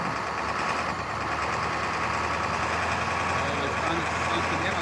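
An abandoned dump truck's engine rumbles steadily and loudly while driving through snow, a dense continuous drone with no breaks.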